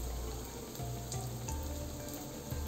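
Fish roe fries in hot oil over lowered gas heat, a continuous soft sizzle and crackle heard quietly up close with no voices.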